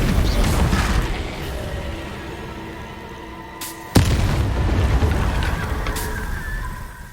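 A Confringo spell from the Hogwarts Legacy video game bursts in one sharp, loud blast midway, set against a steady rumbling combat backdrop.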